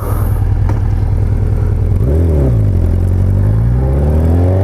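A motorcycle engine, reluctant to shift while cold, idles with a loud close rumble and then revs up and settles, its low tone rising and falling.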